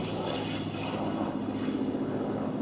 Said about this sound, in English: Very, very fast aeroplane with the cranked wing.